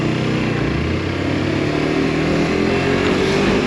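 A Suzuki GSXR 125cc sports bike accelerating hard in a speed test, its small engine whining steadily upward in pitch, loud and close, with constant wind rush.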